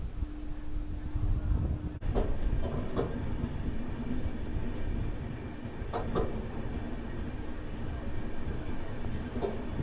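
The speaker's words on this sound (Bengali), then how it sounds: "ফাইনালি আমাদের ট্রেন ছেড়ে দিল দীঘা স্টেশন থেকে" The 22898 Kandari Express, a superfast night train, pulls out of Digha station bound for Howrah: a loud, steady rumble heard from on board, with a few sharp clicks and wheel knocks and faint tonal hums.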